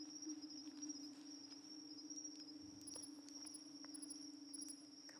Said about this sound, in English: Is that a cricket? Oh my god, it's so loud.